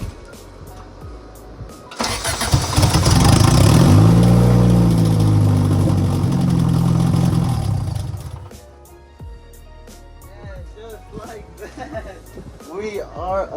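A car's swapped Honda B18B engine, fitted with no exhaust, cranks and roars to life, running loud and raw with a rough, unmuffled rumble for several seconds before dying down as a voice speaks.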